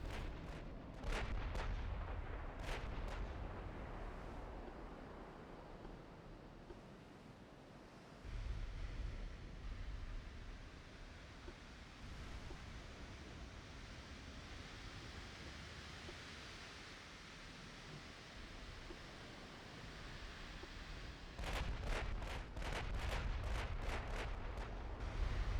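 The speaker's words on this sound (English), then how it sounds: "Casabianca has opened fire already." Warship gunfire in the naval battle game Ultimate Admiral Dreadnoughts, with booming salvos over a constant roar of sea and battle ambience, and clusters of sharp shots near the start and end.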